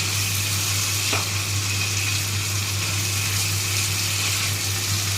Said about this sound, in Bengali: এইভাবে মশলাটা ভালো করে কষিয়ে নিতে হবে